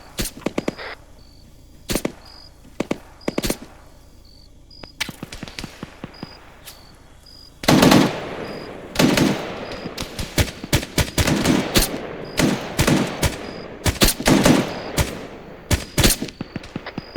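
Gunfire rings out in the Kekestan Mission 10 video game: sharp single shots and rapid bursts crack repeatedly at irregular intervals, loud and close, growing denser in the second half.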